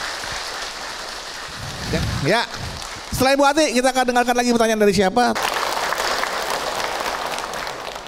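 Audience applause at an Islamic parenting talk, a steady broadband clatter spread across the whole stretch, with someone speaking over it through the middle.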